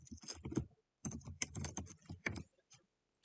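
Text typed on a computer keyboard, quick clusters of close clicking keystrokes in two bursts separated by a short pause, with a few scattered taps at the end.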